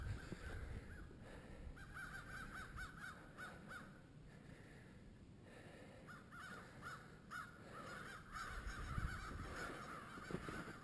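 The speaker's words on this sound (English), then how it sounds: "Uh-oh, here comes the crows." Crows caw repeatedly from some distance, harsh calls coming in irregular bursts over a steady outdoor rumble of wind.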